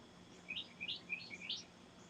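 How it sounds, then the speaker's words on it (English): A warbler sings a short series of bright, quick chirping phrases outdoors, moderately distant and clear above quiet background hiss, with no talking. "Sounds like a warbler."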